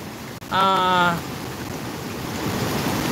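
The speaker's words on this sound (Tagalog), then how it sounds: "Ang taas talaga ng alon." Storm surge waves crash at Nato Port in Barangay Nato, Sagñay, Camarines Sur, during heavy rain. A steady wash of surf and rain noise swells toward the end, and a short tonal call rings out near the start.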